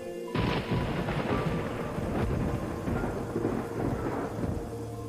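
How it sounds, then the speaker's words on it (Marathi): Thunder cracks and rolls loudly over steady heavy rain in a stormy night scene, the sharp onset giving way to a long rumbling tail that keeps booming throughout. "अधूनमधून विजा कडाडत होत्या"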